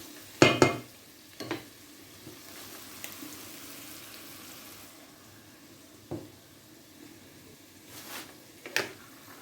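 Food is stirred as it fries in a pan while cooking a chicken liver chermoula dish, with a soft continuous sizzle broken by a few clattering utensil scrapes, heard close and without speech.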